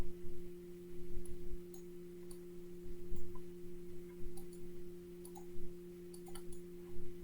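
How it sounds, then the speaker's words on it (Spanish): Computer mouse clicks sound during a file upload, a series of short sharp ticks at irregular intervals over a constant electrical hum. "hago clic para subir el archivo"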